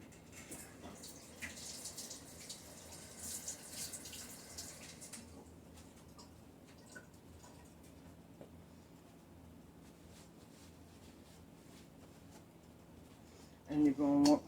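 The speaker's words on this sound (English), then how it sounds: "I'm going to wash my hands" Hands rinsed under a running kitchen tap: a steady rush of water for about five seconds, then it shuts off and the room goes quiet, with a brief louder noise at the very end.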